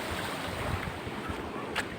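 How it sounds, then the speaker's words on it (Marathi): Water waves washing against the shore at a fishing spot, a steady low rushing surge with wind noise across the whole stretch, fairly faint and unbroken, with no voices. "पाण्याचा आवाज येत असेल"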